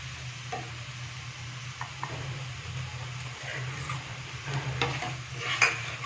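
Thick homemade tomato sauce simmering in a pan while it is stirred, with soft scraping and bubbling and a low steady burner hum underneath, and light utensil clinks near the end.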